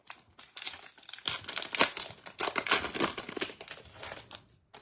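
Baseball card packs are torn open, their foil wrappers giving off loud, close crinkling and crackling in irregular bursts for several seconds, fading out near the end.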